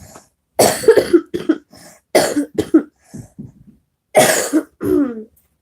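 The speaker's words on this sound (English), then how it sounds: "That cough, y'all, I told y'all." A person coughs repeatedly up close, harsh bursts in several clusters with short silent gaps between them.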